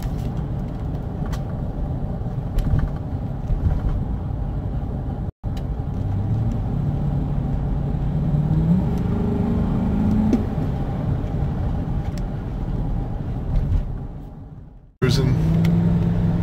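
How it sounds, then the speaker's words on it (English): A 2006 Ford Explorer with a 4.6L engine and a manifold runner control stuck open, out on a test drive: a steady, loud engine and road rumble heard from inside, with two brief dropouts. "I'm gonna take it for a test drive and see how it goes."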